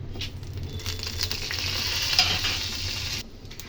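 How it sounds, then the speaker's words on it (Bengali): Steady crackling sizzle of whole spices, bay leaf, dried chili and asafoetida frying in hot mustard oil, close and loud, with no talking. "ফোড়নটা ভালো করে ভাজা হয়ে গেলে"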